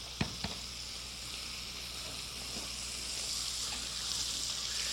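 Veal scallops sizzle in a frying pan, a steady hiss that opens with a couple of sharp clicks as a piece goes in and stays even throughout.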